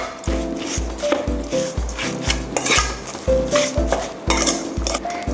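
Rhythmic scraping and clinking of a spoon against a bowl as seasonings and sliced vegetables are tossed through fried pork larb; loud, close, steady repeated strokes.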